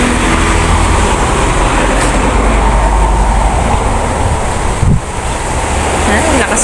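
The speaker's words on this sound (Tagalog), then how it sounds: "Lakas po ng hangin dito." Strong wind buffets a garden, a loud continuous roar of gusts hitting the microphone with a brief thump partway through.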